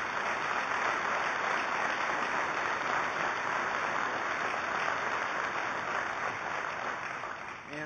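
Sustained applause from an audience at a presidential speech, dense and steady across the whole stretch, fading slightly at the end.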